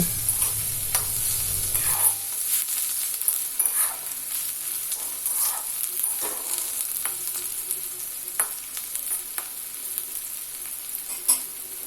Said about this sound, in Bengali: তেল গরম হলে পেঁয়াজ কুচি তেজপাতা আর দুটি কাঁচা লঙ্কা দিয়ে দেবো এবার এগুলিকে হালকা ভেজে নেব